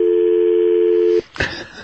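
A steady telephone tone sounds loud and continuous for about a second, cuts off abruptly, and is followed by a brief click and a short burst of noise.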